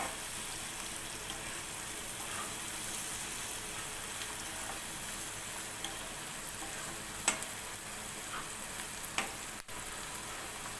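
Onions sizzle steadily in a hot pan with ginger and garlic pieces for an Indian egg fry, a continuous broadband crackle with a few sharp utensil clicks near the end; no talking.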